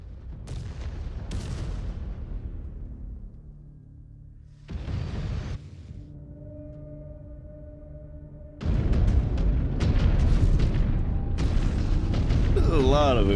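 Heavy explosions and booming blasts go off in Mechwarrior 5: Clans, loud bursts separated by quieter gaps, with a dense run of impacts near the end.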